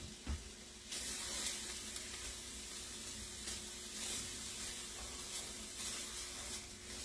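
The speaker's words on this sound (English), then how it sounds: "I want this pan to get hot so they sear as I drop them in." Meat searing in a hot pan as it goes in to make gravy, heard as a steady, broad, hissing sizzle that starts after a brief bump and continues at a moderate level under a faint low hum.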